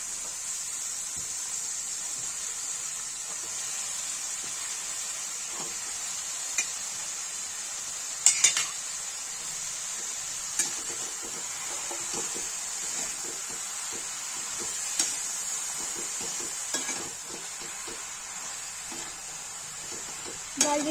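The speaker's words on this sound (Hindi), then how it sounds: "गाइस देखिए इसमें टमाटर के साथ इसको भून देंगे" Spinach sautéing in a tomato-onion gravy in a pan for palak paneer, giving a steady soft sizzle with occasional stirring scrapes and light clicks throughout.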